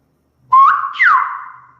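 A single clear whistled phrase in Silbo Gomero whistled language, the number eight: two connected tones gliding up then sweeping down, loud and close with no talking.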